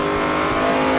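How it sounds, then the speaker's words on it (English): A NASCAR race car at Talladega roars loud and steady, its engine climbing as the driver gets back on the throttle amid surrounding car noise. "You hear him getting back in the throttle trying to avoid these guys."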